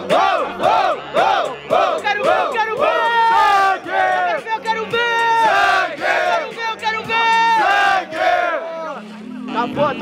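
A large crowd at a freestyle rap battle shouts and cheers in loud rhythmic waves, many voices chanting together at close range, fading slightly toward the end.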